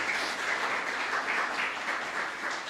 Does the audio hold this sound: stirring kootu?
no